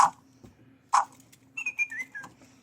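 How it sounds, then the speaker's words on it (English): A small toy tweets with short rising and falling whistled chirps after a couple of sharp clicks, close by and fairly quiet in an otherwise still room. "My apprentice has got something that whistles."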